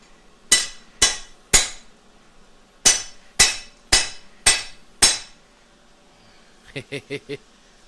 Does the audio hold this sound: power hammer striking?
yes